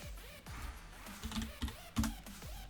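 A few soft, uneven clicks of computer keyboard keys being pressed close by, scattered light taps with a low background hum.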